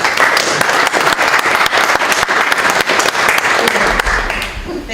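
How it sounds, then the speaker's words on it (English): An audience at a town budget hearing claps steadily for several seconds, a dense crowd applause that stays loud and then thins at the end. "That was an interesting round of applause."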